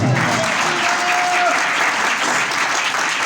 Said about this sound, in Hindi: खुदावंद के कलाम के लिए एक दफा फिर जोरदार तालियां।